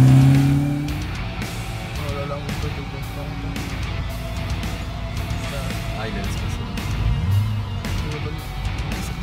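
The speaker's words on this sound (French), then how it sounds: "Donc là, toutes les voitures se barrent." Supercars leave a meetup one after another, engines revving and accelerating past at close range with some tire noise, while people talk nearby.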